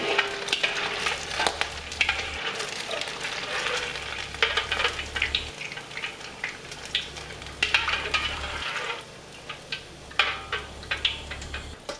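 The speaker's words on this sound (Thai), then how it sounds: "แล้วก็ให้เราทอดต่อให้ด้านนอกสุกเหลืองกรอบ" Thai pork-leg shaped snack dough deep-frying in hot oil, giving a steady, moderately loud bubbling sizzle throughout with occasional stirring scrapes and small clinks.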